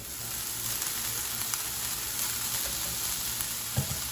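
Drained ground pork hits a dry pan with no added oil and browns, giving a steady, moderate sizzle throughout with a couple of small clinks near the end.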